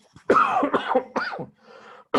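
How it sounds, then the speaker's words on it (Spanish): A person coughs several times in a row during a spoken lecture on systemic therapy, the rough bursts close and loud, with a short quieter stretch before a final cough. "Perdónenme por la tos."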